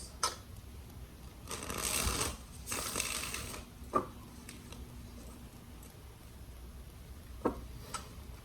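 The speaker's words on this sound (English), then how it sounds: "Two more shuffles." A stiff, hard-carded tarot deck being shuffled: two rough, scraping riffle bursts up close, followed by a few sharp isolated taps and clicks over a quiet room.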